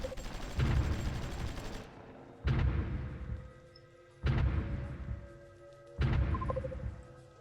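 Artillery fire in a video game: four heavy booming blasts in a slow, fairly even rhythm, each with a rumbling decay before the next shot.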